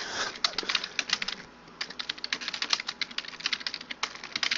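Rapid, uneven typing on a computer keyboard, close and clear, with clusters of keystrokes and a brief pause midway.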